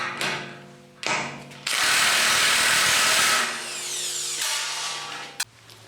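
A Milwaukee HD18 HIW 18-volt cordless impact wrench hammers on a metric bolt in a torque test, with loud, close ratcheting bursts and a sustained rattling impact run before it cuts out, then a short final burst.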